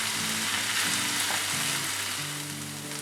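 Chopped tomatoes cook in a pan for tomato rava bath, giving off a continuous, close, even sizzle and frying crackle with no talking.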